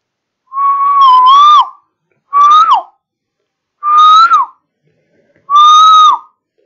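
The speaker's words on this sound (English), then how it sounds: "Now we again blow a whistle." Four separate loud, close whistle blasts, each lasting about half a second to a second, with gaps of silence between them. The tone is shrill and slightly wavering, blown in a quiet room for a PIC16F877A sound detection system.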